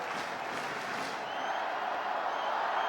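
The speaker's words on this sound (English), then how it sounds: "This crowd is amped." A large crowd at a Dodgers baseball game against the Phillies sends up a steady, loud wash of cheering and applause that fills the whole stretch without pause.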